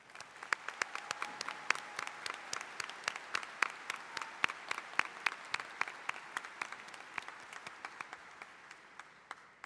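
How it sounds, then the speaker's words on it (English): Graduation ceremony crowd applauds in a large hall, steady, moderately distant clapping with many sharp individual claps standing out across the whole stretch. "Now I would like to have a round of applause for Mr. Kirkpatrick and the assistant principals at South"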